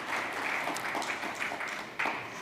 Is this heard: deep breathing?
no